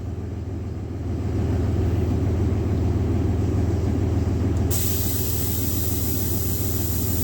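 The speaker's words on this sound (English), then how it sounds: "And then the compressor starts back up." An air suspension compressor in a 2003 Dodge RAM 3500 dually kicks on after about a second and runs as a steady, loud mechanical hum and rumble. A brighter hiss joins it midway, and no one speaks.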